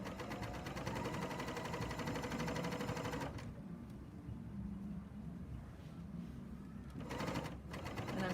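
A serger overlocker stitching quilt binding, running in a fast steady whir for about three seconds, pausing, then briefly restarting near the end, with quiet room noise between bursts.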